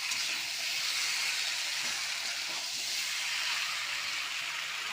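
Steady loud sizzling of mutton, spiced potatoes and spices frying together in a pan, a continuous bright hiss with faint stirring, no talk over it.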